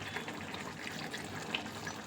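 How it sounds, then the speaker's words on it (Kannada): Water pours steadily into a mixer jar while making crab sukka, a soft continuous splashing trickle, fairly faint and close, with no talking. "ನೀರು ಹಾಕ್ಕೊಡೋಣ ಫ್ರೆಂಡ್ಸ್"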